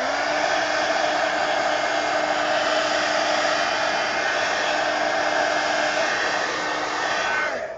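A hair dryer blows steadily and loudly at close range, drying paint on a coloring page, a constant whirring roar that cuts off at the end, with no talking.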